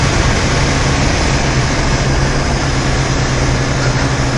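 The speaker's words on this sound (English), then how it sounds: "I'm going to floor it right now." Turbocharged BMW M3 engine at full throttle: a loud, steady, dense roar with a constant drone and heavy rushing noise filling the whole clip, close and without talking.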